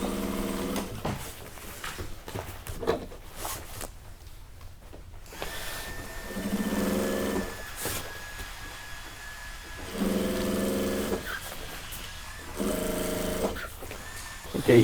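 A van window shade factory sewing machine runs in several bursts of rapid mechanical stitching with short pauses between, fairly close, with a steady whine under the rattling.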